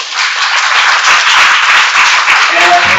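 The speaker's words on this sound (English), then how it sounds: "how about one more round of applause for everybody?" Loud, sustained applause from a business-event audience on an evening cruise, dense clapping filling the whole stretch with a faint voice starting near the end.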